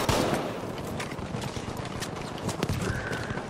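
Heavy gunfire in the Battlefield V video game, with dense, overlapping rapid shots and crackling bursts filling a loud, chaotic battle scene.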